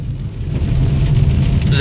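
Rain falls while a car drives along country roads, producing a steady low road rumble with a constant wash of rain noise across the clip.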